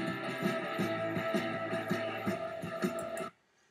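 Playback of a song in GarageBand: a dense full band mix with steady rhythmic beats, running loud and continuous for over three seconds before cutting abruptly to near silence.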